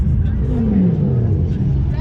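A supercar engine revs loudly and close by, a sustained roar with a rising then falling tone across about two seconds, with background noise from a gathering of arriving supercars at a charity car event.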